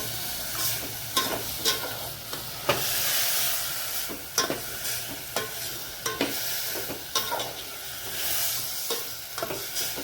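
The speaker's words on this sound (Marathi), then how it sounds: "आणि आपण घेतलेल्या ह्या सर्व भाज्या त्याच्यामध्ये टाकूया। हे व्यवस्थित आपण परतून घेऊया।" Mixed vegetables sauté in a hot pan for sweetcorn masale bhaat, giving a steady close sizzle broken by sharp repeated scrapes and clacks of a spoon stirring, with no talking.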